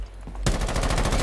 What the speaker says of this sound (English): I can try and kill him with the ACOG shotty.